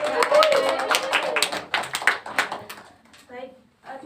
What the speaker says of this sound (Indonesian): Terima kasih Mbak Aul, beri tepuk tangan dulu dong.